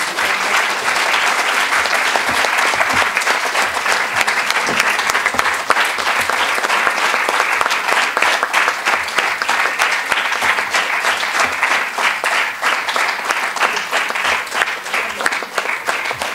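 A seated audience at a Parkinson's Society annual celebration applauds the release of a souvenir booklet, dense and steady clapping that carries on strongly for over fifteen seconds without talk.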